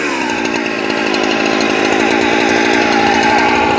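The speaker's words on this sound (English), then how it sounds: "this is the chainsaw that we rebuilt" A rebuilt chainsaw runs loud and close at a steady idle-to-high buzz, droning without pause from start to finish.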